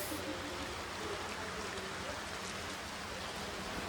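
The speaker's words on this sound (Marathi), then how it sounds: "आज पाऊस पडला" Rain falls in a steady, soft wash of hiss that stays even and fairly faint throughout the short stretch. The setting is a rainy day in Nagpur.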